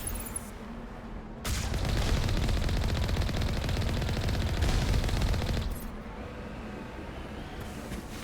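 A turret fires in Mass Effect 1 Legendary Edition: a dense, rapid stream of loud shots that runs for about four seconds and then cuts off, with quieter game ambience before and after.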